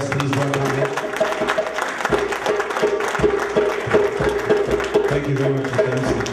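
An audience at an Independence Day celebration applauding to welcome a speaker, a dense crowd of clapping with some voices mixed in, sustained and moderately loud throughout.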